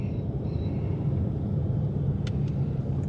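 Deep, steady engine rumble from a Dodge Charger RT Scat Pack muscle car idles continuously and fairly close, with a couple of faint brief clicks near the end.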